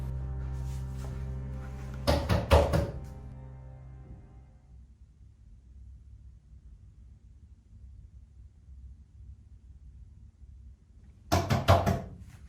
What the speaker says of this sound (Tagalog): nagising muli siya sa isang katok